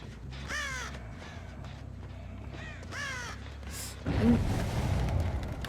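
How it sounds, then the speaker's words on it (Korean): Crows cawing in the horror game Dead by Daylight, a few harsh calls in quick succession over a low ambient drone, followed by a louder rumbling game noise near the end. "까마귀 엄청 열일하잖아"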